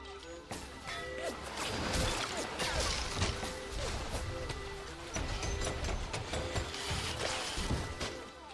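Clanking, ratcheting mechanical sounds from a machine gun upgrade in Bioshock, a series of metallic clunks and rattles with crashing impacts over several seconds, fairly faint against a steady game background.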